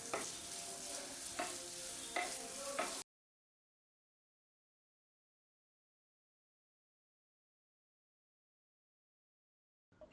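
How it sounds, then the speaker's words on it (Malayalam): Boneless chicken frying in a pan on a medium-high flame is stirred, giving a close, steady sizzle with sharp scraping clicks for about three seconds before it cuts to silence. "മീഡിയം ഹൈ ഫ്ലെയിമിൽ ഇളക്കി കൊടുക്കുക."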